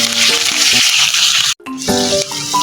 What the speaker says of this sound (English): So we shall start by sauteing our onions